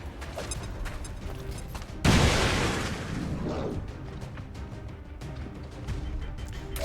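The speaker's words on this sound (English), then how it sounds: "So the idea here is he throws the grenade." A grenade goes off in XCOM 2, one sudden loud blast with a short crackling rumble that fades over a second or so, set against quieter game background sounds and no speech.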